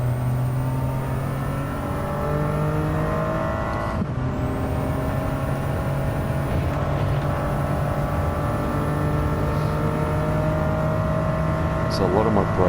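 A Toyota race car engine in a racing video game holds a loud, tonal drone, with brief dips in pitch where the revs ease off entering a corner, steady throughout.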